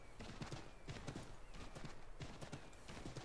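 Rhythmic hoofbeats of a horse in Assassin's Creed 3 clip-clop at a steady trot, fairly near, with a brief whinny and soft ambient game sounds behind.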